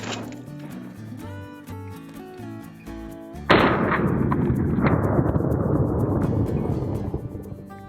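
A Red Army Standard 7.62x39 rifle round with the 8V3 projectile is fired into ballistics gel: tonal music, then one loud, sharp report about midway that spreads into a sustained, slowly fading wash of noise.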